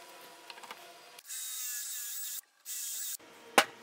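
A power drill bores into the end of a scrap wood board in two short, steady bursts with a brief pause between, close by, followed by a sharp knock.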